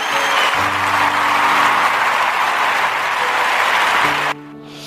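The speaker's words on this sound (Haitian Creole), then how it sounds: "il mérite un applaudissement" Applause for Jesus Christ from a church congregation, a dense sustained clapping that fills nearly five seconds with a held musical tone underneath, ending abruptly as the clapping stops.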